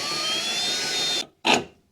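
A power tool works the lower coilover bolt on an MX5 Miata suspension, giving a loud, continuous whirring spin with a slowly rising tone that stops abruptly, then one short final burst.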